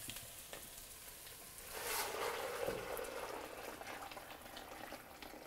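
Heated water is poured into a pot of Italian wedding soup, a brief sizzling, splashing rush midway that rises over a quiet kitchen background and then settles into a soft simmer.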